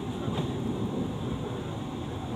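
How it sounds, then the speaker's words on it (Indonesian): Steady low rumble and hum of the Jayabaya passenger train, a stainless steel new generation train, on the move, heard from inside the carriage as a continuous, fairly even drone with no voices. "ada suara brrr gitu guys. Itu ciri khasnya stainless steel new generation"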